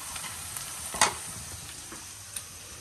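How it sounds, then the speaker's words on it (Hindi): Chopped onions browning in a frying pan with a steady, close sizzle and one sharp stirring clatter partway through, with no talking. "ये हमारे प्याज तकरीबन ब्राउन हो गए हैं"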